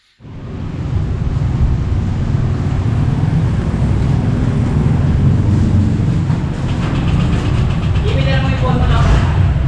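A 2025 Honda Click 125 scooter engine starts abruptly and settles into a loud, steady idle close by, its rumble holding evenly throughout.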